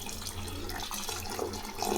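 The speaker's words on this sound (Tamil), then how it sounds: "தேவையான தண்ணி ஊற்றிக்கலாங்க" Water poured into a pot of Chettinad mutton curry, a steady splashing pour with a low rumble running through the whole stretch.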